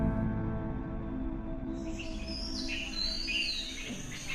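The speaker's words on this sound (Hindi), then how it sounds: "अगली सुबह वर्षों बाद पहली बार वेलीमाला के जंगल में पक्षियों की आवाज सुनाई दी।" Birds call and chirp in the Velimala forest at morning, a cluster of bright high calls and trills rising over a steady low background hum partway through, fairly close and with no talking.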